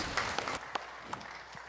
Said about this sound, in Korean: 박수로 하나님께 드리겠습니다.